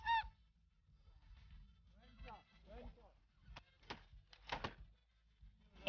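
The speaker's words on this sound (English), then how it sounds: "Incoming goose." Geese honking as they fly in over a pre-dawn duck hunt, several bright, separate calls in a loose run, fairly faint and distant over low background noise.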